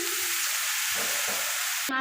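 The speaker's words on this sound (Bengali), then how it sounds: "এখন একটু পানি অ্যাড করতেছি।" Water poured into a hot pan of onions, garlic and green chillies, giving a loud, steady sizzle with faint stirring scrapes underneath, no talk.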